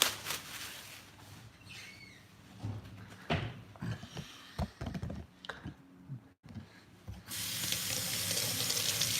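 Water runs from a sink tap for washing, a steady rushing flow that swells loud near the end after a few scattered clatters and knocks.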